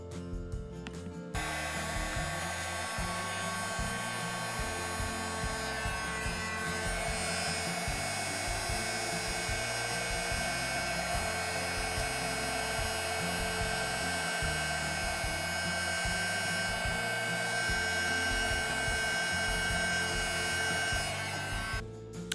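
A heat tool for embossing glitter on Valentine's decor blows a steady, loud whirring hum that starts after a brief pause and runs unbroken to the end, with no talking.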